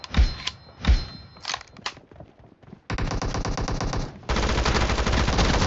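P90 gunfire in PUBG Mobile, a 2v2 team deathmatch: a few separate sharp shots, then long rapid full-auto bursts, loud and close, the last one harder and more intense.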